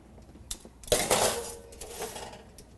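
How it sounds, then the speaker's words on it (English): A baking dish of twice-baked food is slid into a kitchen oven, a short clatter of light metallic clinks followed by a louder clunk and rattle as it settles. "Let's put these in the oven"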